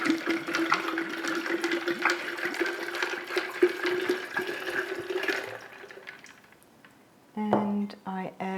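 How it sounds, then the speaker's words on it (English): Carbonated water poured into a glass of white wine for a spritz, a steady fizzing, gurgling stream that tapers off near the end, followed by a brief clink or handling sound. "And I add also some carbonated water."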